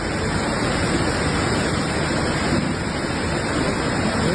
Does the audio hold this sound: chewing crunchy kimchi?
no